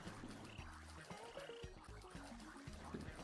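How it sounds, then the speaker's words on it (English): Cartoonish frog croaks from a cute frog-spawning video game, a quick run of low, throaty ribbits repeating in short bursts alongside bright tonal game blips, steady and close with no talking. "Let's spawn more frogs."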